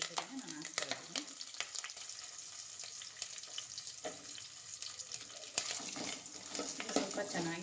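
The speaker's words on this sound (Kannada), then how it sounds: "ಇದು ಸ್ವಲ್ಪ ಚೆನ್ನಾಗಿ ಫ್ರೈ ಆಗಲಿ." Onion, green chili and curry leaves fry in a pan with a steady close sizzle, broken by scrapes and stirring clatters, with faint kitchen sounds around it.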